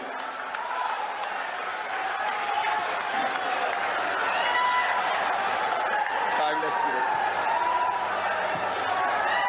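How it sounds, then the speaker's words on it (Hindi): A rally crowd in Rewa applauds Chief Minister Shivraj Singh Chouhan, sustained dense clapping across the whole stretch, with voices carrying over the continuous applause. "जोरदार तालियों से आइए माननीय मुख्यमंत्री जी का स्वागत करें, अभिनंदन करें, लगातार ताली बजाते रहें।"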